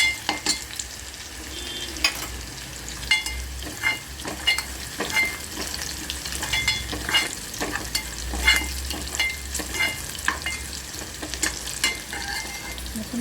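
Garlic sizzles steadily in hot oil in a pan for a moong dal amti, with frequent close stirring scrapes and ticks over the continuous fry and no talking.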